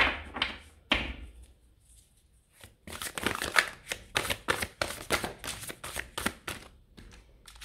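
Tarot cards shuffled and drawn: a few soft slaps and a pause, then a steady run of crisp riffles and snaps close up, with no speech over them.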